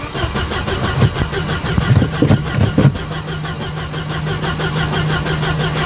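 A Mercedes 190E engine cranks over and over without catching while the throttle is pumped open and shut, a loud, close churning with uneven pulses that settles into a steady drone.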